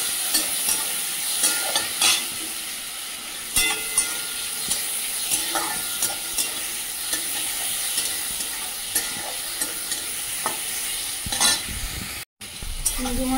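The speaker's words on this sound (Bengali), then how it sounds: "চিংড়ি মাছটা হালকা ভেজে নিয়েছি" Prawns coated in salt and turmeric frying lightly in oil in a wok, giving a loud, continuous sizzle with repeated clicks and scrapes from stirring, heard without talk.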